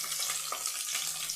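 Mustard seeds, cumin and onion sizzle steadily in hot oil in a pan for a curry, a close, continuous frying hiss with faint crackles and no voices.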